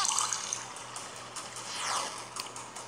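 Water pours steadily in a video game, a continuous trickling and splashing stream with a faint tonal hum underneath, loud and close with no talk.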